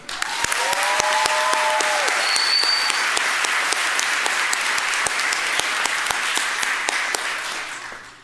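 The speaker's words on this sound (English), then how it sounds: "please help me give them a round of applause" An audience at a 2023 nursing pinning ceremony gives a full, sustained round of applause, loud and even, with a few sharp individual claps standing out before it fades at the end.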